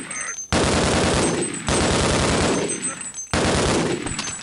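Loud bursts of automatic gunfire in the video game Halfquake, three sustained volleys each cut off abruptly, filling the clip close and dense with little pause between them.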